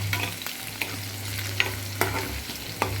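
Ginger fries in hot oil until brown for a ginger-tamarind dish, a close, steady sizzle with scattered sharp stirring clicks and scrapes over a low hum, no talking.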